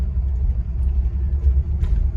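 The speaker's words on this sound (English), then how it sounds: "Like any car is almost 60 years old, there's a bit of creaks and rattles." A 1964 Cadillac on the road gives a steady, loud low rumble of engine and road noise inside the cabin, with only faint hints of rattling on top.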